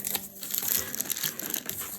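Clear plastic wrapping on a boxed ThreeZero Evangelion Unit-01 figure crinkles steadily and loudly up close, a continuous dense rustle with no speech.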